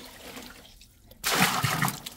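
Water splashes and spatters from a leaking household water pipe onto a flooded floor, starting suddenly after a quiet moment and continuing loud and close.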